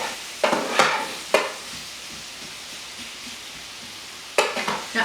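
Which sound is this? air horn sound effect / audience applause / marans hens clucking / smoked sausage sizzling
smoked sausage sizzling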